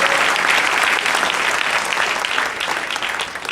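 Congregation clapping in church during a sermon, a thick wash of many hands applauding loudly and steadily, easing off slightly toward the end.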